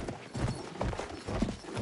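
Horse hooves clip-clopping at a gallop in the Battlefield 1 video game on PS5, a rapid irregular pattern of thuds close up and moderately loud, with battle ambience around it.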